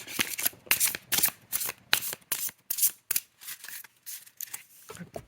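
An oracle deck of cards is riffled and shuffled by hand in quick repeated bursts of crisp papery flutter, close and fairly loud, with short pauses between passes.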